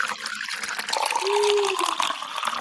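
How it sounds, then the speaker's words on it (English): A soda fountain machine pours liquid into a glass, a continuous trickling gush with a rising filling tone, heard close and fairly loud. "A soda fountain machine."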